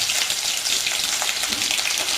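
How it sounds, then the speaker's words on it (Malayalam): Mustard seeds popping and crushed garlic and ginger frying in hot oil for a sweet dates and green chilli pickle, a dense steady crackling sizzle with scattered sharp pops throughout, close and fairly loud, with no talking. "ഇനി ഇത് കടുക് പൊട്ടി തുടങ്ങി. ഇതിലേക്ക് നമുക്ക് ചതച്ചതിടാം."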